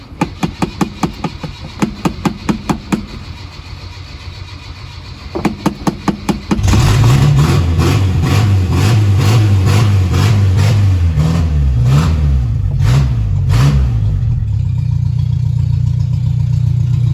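An old car with a freshly repaired clutch cranks over in rhythmic starter bursts, stops, cranks again, then fires into life and revs loudly and unevenly before settling to a steady rough idle, close by.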